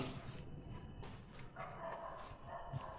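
Dogs bark repeatedly against a steady, noisy background, with no clear pauses between the yelps.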